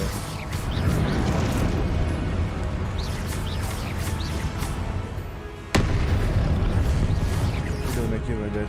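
A Confringo blasting spell explodes in Hogwarts Legacy amid busy combat, with a sharp sudden burst standing out from ongoing crackling, popping effects and music, while someone talks over the action.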